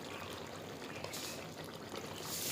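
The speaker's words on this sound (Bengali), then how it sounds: "এবার জল দিয়ে দেবো।" Water poured into a pot of braised spiced meat with oil risen to the surface, a steady close splashing rush that runs unbroken and swells slightly toward the end.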